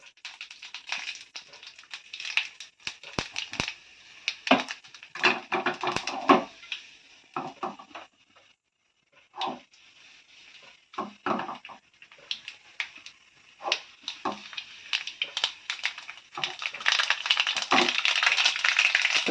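Mustard seeds and urad dal splutter in hot oil for an onion-tomato chutney tempering, with irregular bursts of sharp crackling pops that pause briefly and then grow dense and loud at the end.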